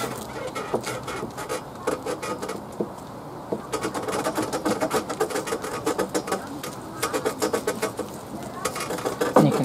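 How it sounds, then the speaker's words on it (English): A roller is worked over resin-soaked fiberglass sheeting on a narrowboat shower tray, giving a close, sticky crackling patter in uneven bursts with a faint background hum. "as I'm rollering it, it's pushing all the air out and pushing the resin right into this fiberglass sheeting"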